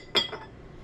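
A utensil clinks once, sharp and close, against a bowl while diced onion, salt, pepper and garlic powder are being mixed together, with a faint ring trailing off into quiet.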